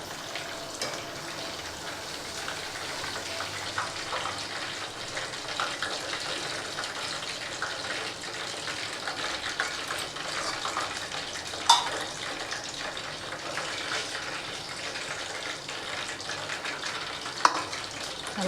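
A batch of chicken 65 frying in hot oil, a steady hissing sizzle that continues throughout with a couple of brief clinks.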